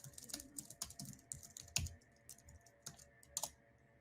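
Quick, irregular clacking of fingers typing on a computer keyboard in a quiet room, close and fairly soft, with bursts of keystrokes and a few louder taps.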